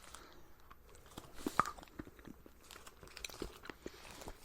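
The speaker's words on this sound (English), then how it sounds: "Got a good crunch." Crunchy bites and chewing on a snappable Middle Eastern chocolate bar, with repeated close, sharp cracks and crunches in an irregular rhythm and no talking.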